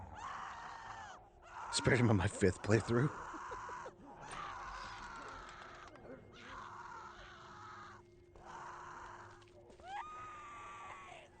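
A woman screams in the street in Telltale's The Walking Dead Season 1, Episode 3: a short, loud burst of shrill cries early on, set among stretches of someone talking.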